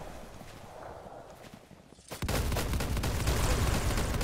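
Gunfire in the Roblox game Arsenal: after a quiet stretch, a loud, dense burst of shots erupts about halfway through and keeps going without pause to the end.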